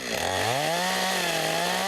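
A chainsaw revving and cutting wood during forestry training, a loud close engine whine that rises in pitch and then holds a steady buzzing drone.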